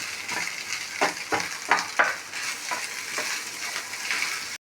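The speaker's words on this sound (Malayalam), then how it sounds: "ഒരു 5 മിനിറ്റ് നേരം നമ്മൾ നന്നായി ഇളക്കി കൊടുക്കാം." Chicken and egg fry being stirred in a hot pan, a steady sizzle broken by repeated scraping strokes of the spoon, close and fairly loud, ending abruptly.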